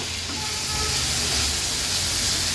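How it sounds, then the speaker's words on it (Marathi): Tomato dropped into ground masala paste frying in a pan for an Agri-Koli clam dish gives a steady, close, broadband sizzling hiss that runs unbroken throughout, with no talking. "वाटण परतून झालं की आता आपण ह्यात टोमॅटो ॲड करणार आहोत"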